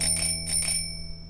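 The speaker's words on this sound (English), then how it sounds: "Then Mr. Monkey tried the bicycle bell." A bicycle bell rings twice in quick succession, bright metallic dings that fade into a brief ringing decay, clear and close with no voices.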